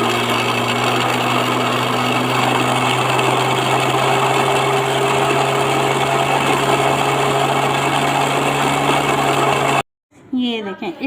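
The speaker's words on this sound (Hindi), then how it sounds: "देखिए अब यहाँ पे हम इसको ग्राइंड करने लगे हैं।" An electric grinder runs continuously at a loud, steady pitch, churning a mayonnaise hair mask paste into a smooth blend for dry, damaged hair, then stops abruptly near the end, leaving a brief quiet tail with faint noise.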